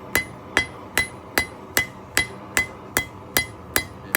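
A blacksmith's hammer strikes hot metal on an anvil in an even, steady rhythm, ten sharp ringing blows about every 0.4 seconds, loud and close with no talking.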